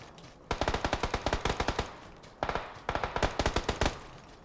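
Automatic gunfire in PUBG Battlegrounds on the Sanhok (Savage) map: two rapid bursts of sharp, evenly spaced shots, each burst lasting about a second and a half, close and loud with a short pause between them.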